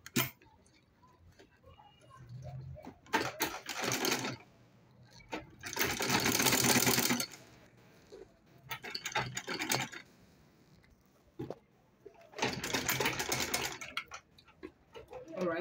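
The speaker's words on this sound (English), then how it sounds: "So I'll top stitch it." Sewing machine top stitching a zipper pouch, running in several short bursts of rapid needle clatter separated by quiet pauses, close up and fairly soft.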